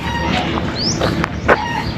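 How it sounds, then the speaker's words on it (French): Chickens at a mini zoo at a temple site in Pattaya, Thailand, clucking and calling in short bursts over a steady outdoor background, moderately near. "Il y a aussi plein de poules, vous les avez sans doute entendues."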